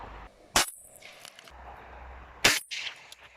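Rifle fired outdoors at a 100 metre target, two loud sharp shots about two seconds apart, each cutting off abruptly, close to the shooter.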